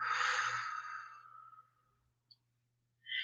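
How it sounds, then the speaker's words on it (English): A slow, audible breath out during a guided breathing exercise, starting strong and tapering off over about two seconds, followed by a tiny click and the start of another soft breath. "and then exhale."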